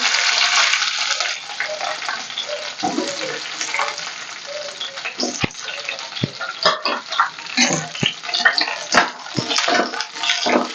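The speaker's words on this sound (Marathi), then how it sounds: "आपण ज्या मिरच्या कट करून घेतल्यात मधून ते आपल्याला ह्या तेलावर टाकायच्या" Cut green chillies hit hot oil in a pan, giving a crackling sizzle with bursts of spattering and occasional clinks of stirring, close and fairly loud.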